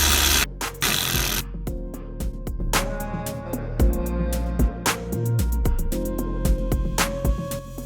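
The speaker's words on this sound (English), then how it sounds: "Place the paddle shifters back into the steering wheel and tighten the Torx screws." Torx screws tightened on billet paddle shifters fitted to a C8 Corvette steering wheel, with close, irregular metallic clicks, ticks and small ratcheting taps over a low hum.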